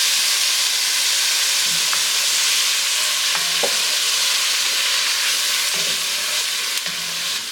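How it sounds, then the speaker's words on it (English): Sofrito hits sautéing, translucent onions in a pot, setting off a loud, steady sizzle with soft hiss and occasional stirring clatter throughout. "I'm now going to go ahead and add my sofrito in."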